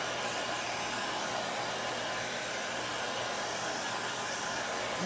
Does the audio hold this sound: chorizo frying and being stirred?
no